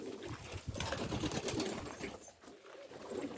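Istanbul tumbler pigeons coo softly among other birds in a busy loft, the low burbling calls partly masked by a steady wash of background noise.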